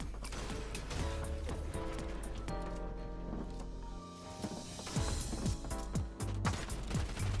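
Gunfire in the video game Fortnite Mobile, a scattered series of sharp shots at moderate-to-low level, clustering more rapidly toward the end, over game music with tonal sustained notes.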